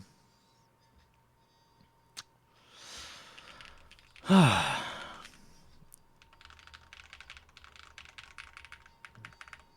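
Typing on a Baion Synovia mechanical keyboard: rapid, faint clicky keystrokes in quick bursts toward the end, after a single loud breathy sigh nearby.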